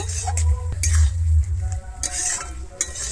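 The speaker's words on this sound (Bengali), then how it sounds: "আমি ধনেপাতা কুচিটা কিন্তু খুব ভালোভাবে আবারও মিশিয়ে নেব।" Chopped coriander is stirred into a green tomato jhal in a pan, with close spoon scrapes and clinks over a low sizzle and a few sharper taps against the pan.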